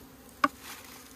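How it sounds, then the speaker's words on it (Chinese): A honeybee buzzes once, close and brief, a single short burst against an otherwise quiet rural village yard. "小蜜蜂啊，别吃了，别吃了哈！"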